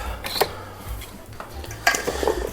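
Sweet potato, garlic and cauliflower are tossed with oil and seasoning in a bowl, giving a few scattered clatters and scraping stirs, close and moderately loud, with no talking.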